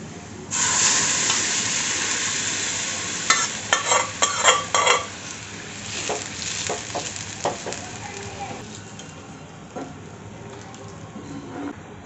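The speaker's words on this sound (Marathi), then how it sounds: "हे सर्व आता आपण मिक्स करून घेऊया आणि जे उकडलेलं आहे ना हे ह्याच्यात टाकून घेऊ" Boiled horse gram stirred into a frying mix of red chilli powder and crushed green chilli thecha, a steady sizzle with scraping spoon strokes clustering in the middle, close and fairly loud.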